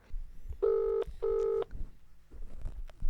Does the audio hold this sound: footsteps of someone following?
no